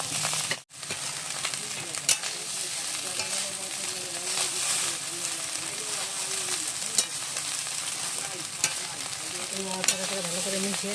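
Fried rice sizzles steadily as it is stirred and tossed in a pan. A continuous frying hiss runs under intermittent scraping clicks of the spatula, with faint background murmurs.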